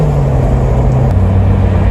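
A 2017 Subaru WRX with all-wheel drive and a CVT on the move: a steady, smooth engine drone with a constant low hum and road noise, loud and even, with no talking.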